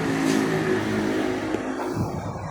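A motorcycle engine revs steadily on a road at night, a loud continuous drone with a slight rise and fall in pitch, with no talk over it.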